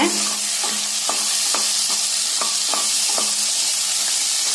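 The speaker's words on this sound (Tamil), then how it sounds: "இப்ப கட் பண்ணி வச்சிருக்கிற கொத்தவரங்காயை சேர்த்திக்கலாங்க. சேர்த்திட்டு நல்லா வதக்கி விட்டுறலாங்க." Cluster beans and tomato sauté in a pan with a loud, continuous close-up sizzle and a regular series of scraping stirring strokes, no voices present.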